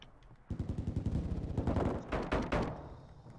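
Automatic gunfire in Call of Duty Modern Warfare 2, a rapid burst of close, loud shots lasting a couple of seconds with a few heavier reports, no talk over it.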